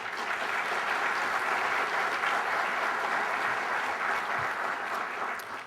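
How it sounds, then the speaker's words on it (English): An audience at a business awards event applauds for the sponsors, a full, sustained round of clapping that stays loud and even for several seconds before tapering slightly at the end. "If we could please have a round of applause for all of our sponsors."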